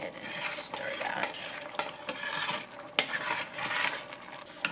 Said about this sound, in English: Let's go ahead and stir that.